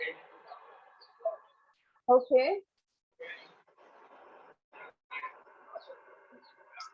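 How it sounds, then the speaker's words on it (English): Birds chirp and call outside in short scattered bursts, fairly faint, with a brief spoken word partway through. "The sound which is going on outside, bird is chirping, that sound is there."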